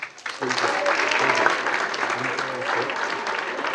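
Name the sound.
audience applause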